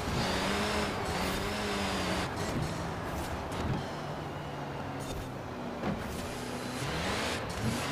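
Car engines race in Forza Horizon 4: a continuous drone of motors with rising and falling engine tones and shifting pitch as the cars accelerate. It runs steadily throughout with no voices over it.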